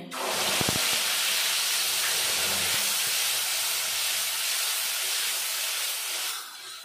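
Ginger, green and red chilli, and cumin spice paste fries in a pan for a Bengali moong dal with pointed gourd. It gives a loud, steady sizzling hiss that runs unbroken for several seconds before cutting off near the end.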